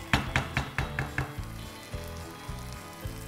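Onion fries in a pan with a close sizzle, and a quick run of sharp clinks and scrapes from a utensil fades into softer stirring.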